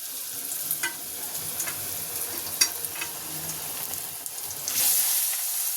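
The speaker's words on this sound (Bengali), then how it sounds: "এগুলো ডিপ করা হবে, এই যে দেখুন, আর ভাজা হবে।" Thin batter-dipped jackfruit slices fry in oil with a steady, moderate sizzle and a few crackling pops, with no voices over it.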